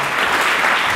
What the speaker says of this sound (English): Let's get another round of applause for State Comptroller Tom DiNapoli.